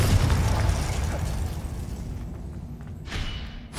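A Confringo fire spell explodes in the Hogwarts Legacy game, a loud rumbling blast that slowly fades, followed by a second, shorter burst near the end, with no talk.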